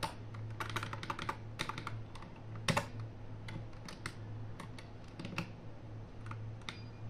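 Keys clatter in quick bursts on a computer keyboard as a command is typed during setup of MikroTik OS on a cheap mini PC, close and clear over a steady low hum, with no talk.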